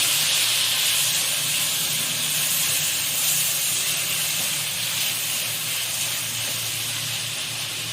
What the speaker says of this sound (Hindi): अब ये टमाटर डाल देंगे इसमें। इनको भी थोड़ा भून लेंगे।